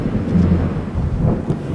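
Thunder rolling under rain in the video game Project Zomboid, a loud deep rumble that swells and churns for the whole short stretch over a soft layer of falling rain.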